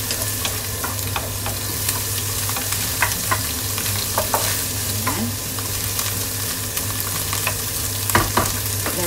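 Garlic fries for Japanese chahan fried rice, making a loud, dense sizzle that runs the whole time, with scattered light spatula taps and stirring clicks close by.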